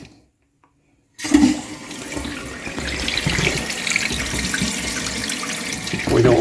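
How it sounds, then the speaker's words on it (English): Water rushes into a toilet tank under repair once the supply is turned on, starting abruptly after a moment of silence and then flowing loud and steady. "Let's turn the water on,"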